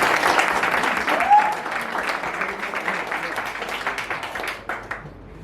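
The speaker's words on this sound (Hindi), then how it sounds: "एक बार तालियों के साथ" A theatre audience claps after a stage drama performance, a dense burst of applause that slowly thins and fades out toward the end.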